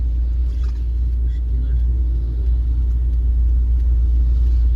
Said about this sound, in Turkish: Çabuk araba geliyor.